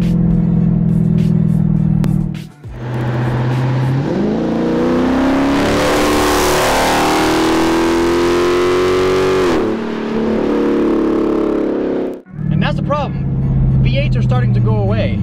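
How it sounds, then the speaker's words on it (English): Dodge Charger Scat Pack with a Hemi V8 revs hard and loud, the engine note climbing in pitch for about seven seconds before cutting off, with talk heard just before and after the rev. "This V8 has awesome sounding."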